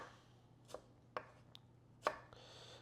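Knife slicing a tomato into chunks on a cutting board during burrito meal prep, a few quiet, crisp cuts spaced unevenly, close by and without talk.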